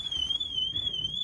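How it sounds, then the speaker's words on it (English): A steady, piercing electronic alarm tone from an aftermarket alarm and immobiliser fitted to a 1984 Ford Capri sounds close and continuous, wavering slightly in pitch. "that's our alarm and immobiliser triggering"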